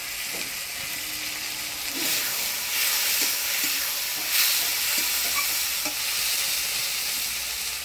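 Chopped garlic, green chillies and ginger paste with chopped tomato sizzle in hot goat fat, a loud, steady frying hiss up close with a few faint clinks of stirring.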